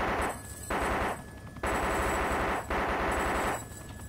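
Loud sustained automatic gunfire in DayZ, a few long bursts each lasting around a second, separated by brief gaps, close and dominating, with no talk.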